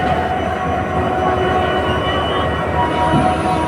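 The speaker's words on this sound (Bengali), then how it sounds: "আমাদের ট্রেন এখন ছেড়ে দিল হাওড়ার থেকে দীঘার পথে।" The 22897 Kandari Express pulls out of Howrah on the route to Digha, a steady, loud rumble of wheels and carriages that carries on unbroken throughout, with no voices.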